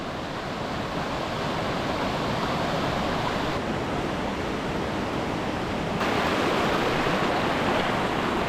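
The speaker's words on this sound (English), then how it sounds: "the streams that flow through here are the direct runoff from what is left" Glacial meltwater stream rushing through a valley meadow below a mountain ridge, a steady broadband roar of flowing water heard up close, constant throughout with a slight swell near the end, no voices.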